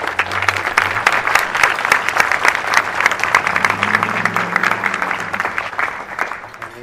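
An audience at a Vallejo September 11 memorial event applauds a national anthem singer with loud, close, dense clapping that swells and then gradually thins toward the end.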